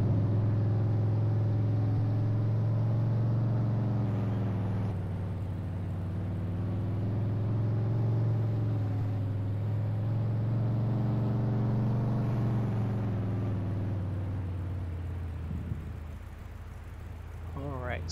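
A truck towing a trailer drives in Farming Simulator 22, its engine a steady low drone with slight swells in pitch, running continuously at moderate level and easing off near the end.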